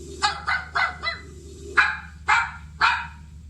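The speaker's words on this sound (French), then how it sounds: "Chien." A dog barks in a quick series of three or four sharp barks, pauses, then lets out three more, close and loud against a low steady hum.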